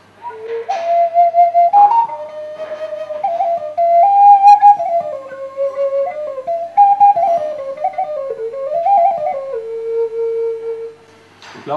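A bagpipe chanter plays a continuous reedy melody, stepping through held notes and quick ornaments with a bright, buzzing tone, close and fairly loud, with no talk over it until it stops abruptly near the end.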